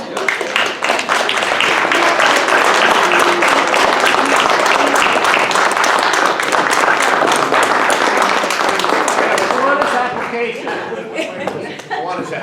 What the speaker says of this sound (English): let's all stand and give them a nice round of applause